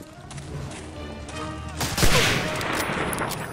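Gunfire in the World War II shooter game Medal of Honor: Allied Assault, with bursts of rapid shots and a louder crash midway over a rumbling battle backdrop.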